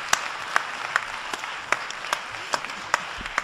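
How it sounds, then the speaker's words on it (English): Audience at a panel discussion applauds three panelists, a loose round of moderately loud clapping with distinct individual claps standing out, continuing steadily without speech. "And please, a robust round of applause for our three panelists for opening this world to us."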